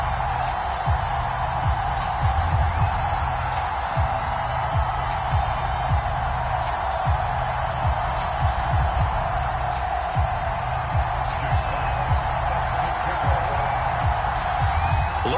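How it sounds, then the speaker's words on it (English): A sold-out Cincinnati stadium crowd roars in an EA Sports NFL game as the Bengals face the Atlanta Falcons, a steady broad wash of cheering held at an even level beneath an announcer's commentary. "The enthusiasm of this Cincinnati crowd in full effect a moment ago as their Bengals took the field to the delight of this sold-out crowd."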